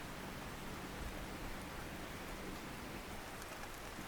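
Steady rain falls across the temperate coastal forest of Cape Otway, Victoria, in southeast Australia, a dense, even hiss with no break, fairly quiet and with no voices.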